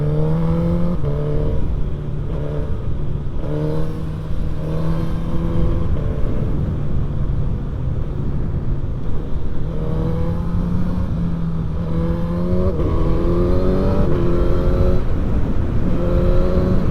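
Suzuki GSX-S1000 motorcycle engine revving while riding, a loud continuous inline-four drone that climbs repeatedly through the gears, each rising whine broken by shifts, close and dominant throughout with wind roar beneath.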